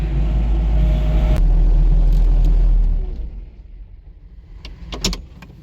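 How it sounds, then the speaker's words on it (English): A truck on a farm rumbles loudly close by and then pulls away, its low engine drone fading after a few seconds into quieter outdoor background with a couple of faint clicks. "Okay, there the truck goes."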